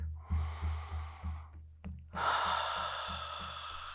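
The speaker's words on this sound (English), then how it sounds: "take a deep breath" A deep breath is drawn in during a calm guided meditation. A faint pulsing hum comes first, then a long, close, airy inhale carries on steadily to the end.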